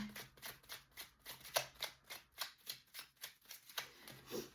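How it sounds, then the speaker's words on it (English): Oracle cards are pulled from a deck in a steady run of about a dozen soft papery flicks, each card slipping out in a quick rhythmic rasp, close up and quiet with no talking. "I'm just going to pull a few oracle cards here to clarify."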